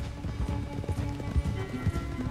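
A horse gallops in Red Dead Redemption 2, with quick, rhythmic hoofbeats thudding steadily through the short stretch at moderate volume alongside game background sound.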